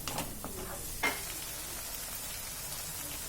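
Masala paste fries in oil for a stuffed brinjal and cashew nut curry, a faint, steady sizzle with a few soft stirring scrapes and one brief clink near the start.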